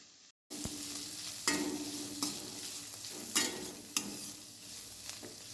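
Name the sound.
side dish frying and being stirred on a low flame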